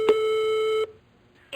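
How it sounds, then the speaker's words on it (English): An answering machine beep in a video game, one steady electronic tone lasting nearly a second and then cutting off, loud and close, with a faint blip just after. "Leave your message at the beep"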